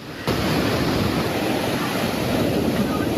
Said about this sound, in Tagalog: Ganito kalaki at kalakas ang mga along humahampas sa baybayin